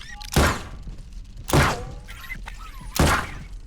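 A knife breaking in the game The Pit: Infinity, three heavy crunching thunks spaced about a second and a half apart, loud and close with faint background noise between.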